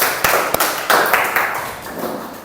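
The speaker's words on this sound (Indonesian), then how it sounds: "tepuk tangan buat semuanya" Applause from a group of participants in a teaching practice classroom session, a fairly close patter of hand claps with a few sharper individual claps standing out, continuing steadily for a couple of seconds with no talking.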